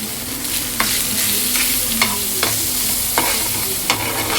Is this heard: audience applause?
no